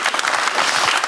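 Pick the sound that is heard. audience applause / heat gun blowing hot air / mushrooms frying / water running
audience applause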